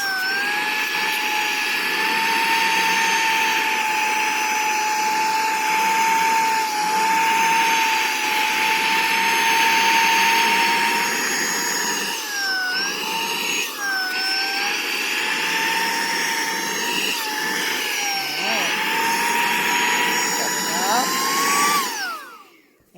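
A Saker 3-in-1 vacuum cleaner runs close with a loud, high whining roar as it sucks up crumbs, its pitch wavering and rising near the end before it shuts off.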